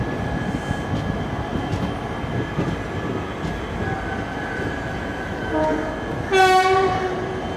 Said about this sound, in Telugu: Indian railways diesel locomotive.